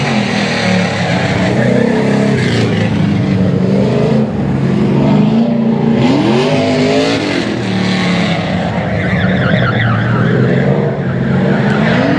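Car tires screech and skid as a vehicle breaks loose around a turn at a Goodguys hot rod meetup, loud and continuous with engine roar underneath and rising squeal sweeps.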